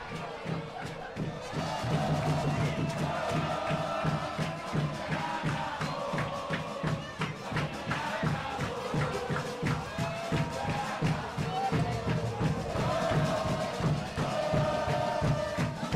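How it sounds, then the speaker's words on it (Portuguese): Football crowd at Estádio Lucídio Frazão, Chapadinha, during a Campeonato Maranhense 2024 match against Pinheiro, roars and chants steadily from a distance with drumming beneath, under a commentator's voice. "A torcida levanta o som aqui no estádio Lucídio Frazão."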